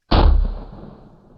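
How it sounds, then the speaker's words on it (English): A single loud CZ 557 Eclipse rifle shot at an outdoor shooting range, a sharp close crack followed by a booming echo that fades over about a second. "And we have the last shot."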